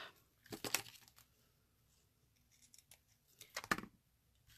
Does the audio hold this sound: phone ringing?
no